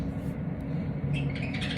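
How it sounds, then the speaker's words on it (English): Birds squawk loudly outdoors in a few short, harsh bursts, the calls piling up toward the end over a constant low background hum. "These birds are going crazy."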